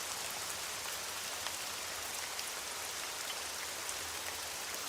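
Steady rain falling outdoors, a dense even hiss of drops on surfaces that holds unbroken from start to end with no voices.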